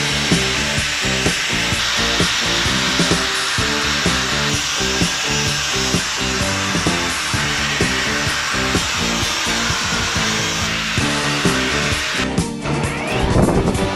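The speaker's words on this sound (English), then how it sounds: "remove epoxy using an angle grinder and a flap disc" An angle grinder fitted with a flap disc grinds epoxy off a wooden table on a deck, a loud, continuous harsh whir with a rhythmic pulsing as the disc works the surface, cutting off abruptly near the end.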